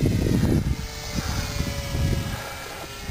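An 800mm nitro-powered Corsair RC model plane's propeller engine drones loudly, its pitch shifting as it speeds past, with wind buffeting the microphone.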